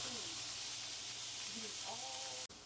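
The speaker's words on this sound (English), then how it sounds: "That was a nice little sizzle sazzle on that one." Vegetables searing on a hot surface give a steady, loud hissing sizzle while someone talks over it, and the sound cuts off sharply near the end.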